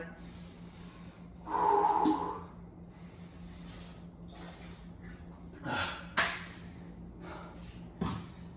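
Several heavy, forceful breaths and snorting exhales after workout exercises come at uneven intervals, close and fairly loud, with quiet stretches between.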